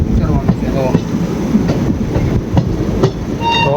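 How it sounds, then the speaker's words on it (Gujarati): Train at Dhola junction bound for Bhavnagar, loud close rumble with rhythmic clickety-clack of wheels over rail joints and a few brief metallic squeals, voices faint underneath. "આ ટ્રેન જશે ભાવનગર તરફ"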